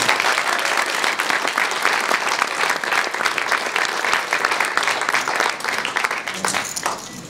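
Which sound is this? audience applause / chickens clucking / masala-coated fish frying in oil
audience applause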